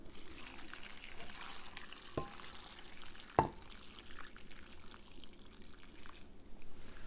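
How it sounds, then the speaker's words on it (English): Pickle brine for bread and butter pickles is poured over sliced cucumbers and onions, a soft liquid splash with a couple of sharp clinks and quiet handling noise in a kitchen. "So now we're going to pour this over the cucumbers."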